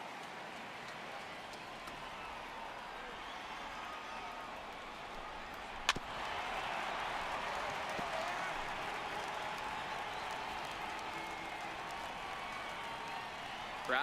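A stadium crowd in MLB The Show 18, during a Phillies at Cardinals game, swells into a steady roar of cheering partway through, beneath ongoing play-by-play commentary.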